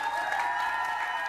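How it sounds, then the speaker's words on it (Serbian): A studio audience claps for a couple on a TV show, a brief dense wash of applause at moderate distance, even in level and without speech. "Molim vas aplauz za par sa desne strane"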